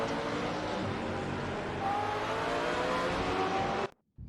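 Race cars, including an Aston Martin, lap Weatherfield in Gran Turismo 4, giving a loud sustained engine drone with rising revs and a faint tire squeal before the noise cuts off abruptly near the end.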